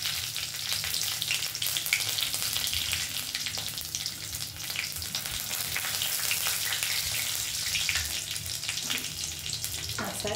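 Bay leaf and dried red chillies fry in hot ghee with a steady, dense sizzle that runs for the full stretch at close range, with occasional soft stirring and no voices.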